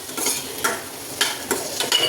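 A spoon stirs cucumber sabzi with cumin and coriander-cumin powder in a pan, giving a few scraping strokes against the metal over a soft sizzle, close and fairly loud, with no talking.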